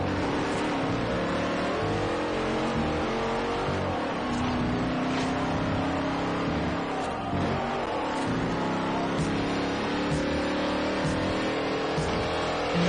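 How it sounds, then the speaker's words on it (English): A loud car engine rumbles and revs continuously, close by and dominating the sound, with throttle swells rising and falling. "This car is so loud."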